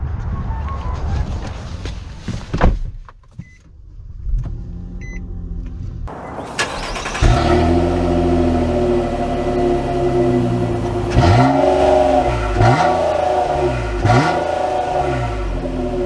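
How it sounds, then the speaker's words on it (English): A 2023 Nissan Maxima SR sets off and drives, its engine note rising through several gear changes in repeated sweeps after a quieter start, heard from inside the cabin. "So we are setting off here in the Maxima"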